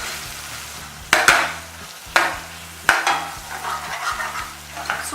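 Turmeric and red chili powder roast in a pan for moong dal tadka, with a spoon scraping through in three or four distinct strokes over a continuous, fairly loud sizzle.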